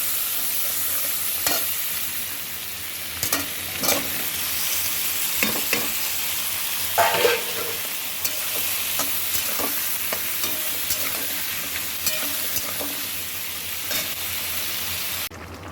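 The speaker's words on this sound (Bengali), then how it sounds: "রান্না করছি পুঁই শাক।" Malabar spinach (pui shak), cooked with prawns, stir-frying in a pan: a steady sizzle runs throughout, with the scrape and clatter of stirring cutting through now and then.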